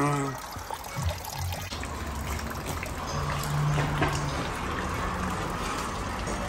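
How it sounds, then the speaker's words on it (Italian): Coolant trickles and splashes steadily from a Rover 75 cooling system being drained, a continuous watery flow with voices talking intermittently over it and some mechanical clatter nearby. "scarichiamo l'impianto di raffreddamento"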